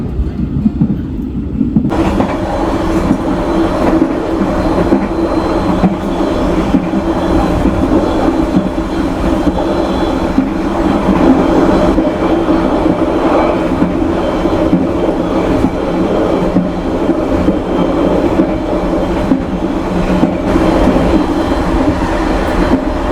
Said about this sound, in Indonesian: Seperti ini kondisi kereta api Kahuripan selepas stasiun Blitar.